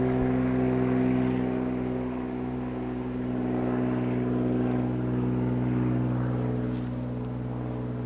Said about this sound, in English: that's a float plane flying overhead.